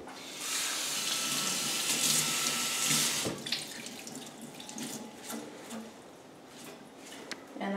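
A kitchen faucet runs steadily while cilantro is rinsed under it, a close, bright hiss of flowing water that drops off after about three seconds into softer splashing and drips.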